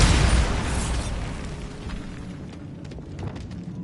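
A Bombarda spell blast in Hogwarts Legacy, a loud booming explosion right at the start that rumbles and slowly fades, with scattered debris clatter trailing off at the end.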